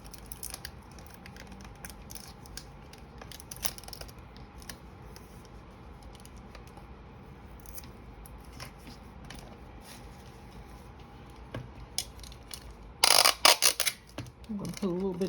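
Tape being pulled and handled while wrapping a gift basket in cellophane, soft crinkles and small ticking handling sounds at close range, with a louder tearing burst of tape near the end.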